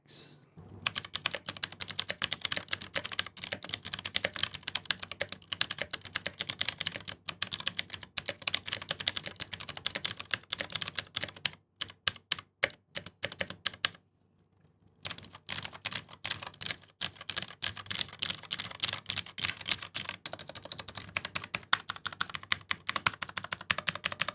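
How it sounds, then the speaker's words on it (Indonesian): Rapid typing on a Koodo Gecko X mechanical keyboard, a close, crisp run of clacky keystrokes in dense bursts, broken by a couple of brief silent gaps. "berikutnya ini dia suara dari Kudo Gecko X"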